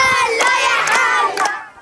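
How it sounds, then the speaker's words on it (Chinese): Children in Gaza shout and cheer together as a lively crowd, their voices loud and continuous with a few sharper bursts of yelling, fading slightly at the end. "拍手绕圈，加萨孩子们享受难得欢乐气氛"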